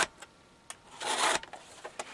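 A chainsaw chain is sharpened with a hand file: a few short, separate rasping strokes, then one longer, louder scraping pass, followed by light taps and clicks, heard close and alone.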